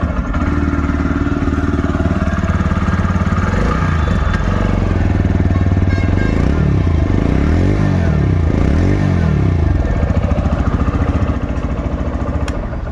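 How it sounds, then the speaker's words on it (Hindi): A 2024 TVS Raider 125 Super Squad Edition motorcycle with a sporty exhaust runs loud and close, holding a steady engine note with shifting tones partway through. "तो बाइक को जो है स्टार्ट करते हैं।"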